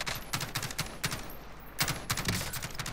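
Rapid bursts of automatic gunfire in a Call of Duty: Modern Warfare firefight, several loud volleys in quick succession with short gaps between them, close to the listener.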